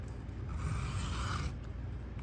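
A knife blade rasps against a whetstone in alternating sharpening strokes, with light pressure easing off. Soft, close scraping runs continuously at low volume with no voices.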